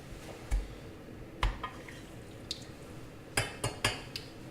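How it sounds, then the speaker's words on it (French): Chicken stock cubes being crushed with a utensil in a pot of hot water, several sharp metallic clinks and scrapes against the pot at irregular intervals over a quiet background. "On les écrase pour accélérer la dissolution."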